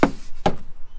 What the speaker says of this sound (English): That sounds like it's full of bog.